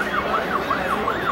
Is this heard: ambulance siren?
yes